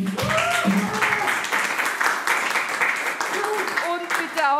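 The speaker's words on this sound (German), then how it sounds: "Als nächstes einen tosenden, tobenden Applaus für die großartige, umwerfende Vanity Venus." Audience applause at a live casting show, a steady crowd clapping that holds loud and continuous throughout, with voices calling out over it.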